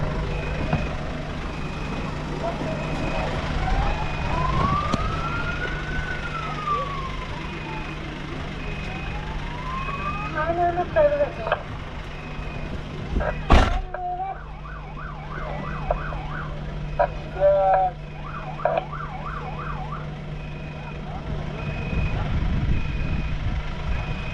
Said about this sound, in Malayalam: ഇതാണ് നമ്മുടെ പോലീസ് വണ്ടിയിട്ട്.